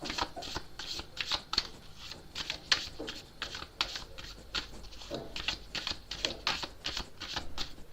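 A deck of tarot cards is shuffled by hand in quick, repeated riffling bursts, crisp and close, with brief pauses between passes and no talking.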